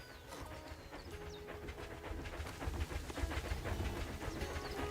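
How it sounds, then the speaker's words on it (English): Train from the zoo-building video game Planet Zoo rolling past, a steady clattering rumble with light hiss that swells slightly toward the end, heard alone over a busy ambient background. "There goes the train."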